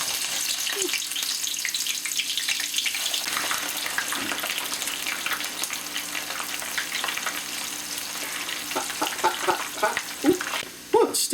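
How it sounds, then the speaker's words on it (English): Onions fry in hot oil with a loud, dense, continuous crackling sizzle up close, and stirring clatters grow busier toward the end. "we're going to put our onions into the oil"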